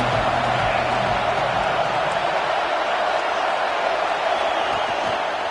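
A stadium crowd in a college football video game roars steadily on a big third down, a dense, unbroken wall of cheering that stays loud and even throughout.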